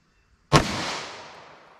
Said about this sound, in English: First up, we have our 165 grain 40 Smith & Wesson from our 5-inch barrel here.